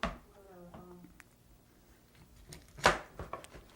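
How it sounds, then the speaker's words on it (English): A sharp kitchen knife slices a piece of partly skinned food in half, one crisp cut standing out after a stretch of quiet talking. "Cut in half. This one here in half."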